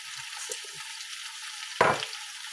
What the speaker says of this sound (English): we're not boiling them, we are frying them